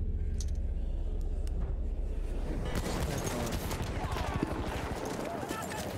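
Horse hooves galloping in the video game Battlefield, a rapid clattering run of hoof beats amid bursts of gunfire and battle noise, with people talking over it.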